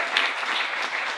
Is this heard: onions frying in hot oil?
no